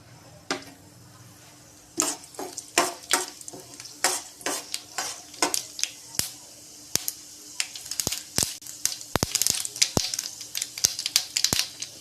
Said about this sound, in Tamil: எண்ணெய் ஒன்று காஞ்சோடனே கடுகு உளுந்தம் பருப்பு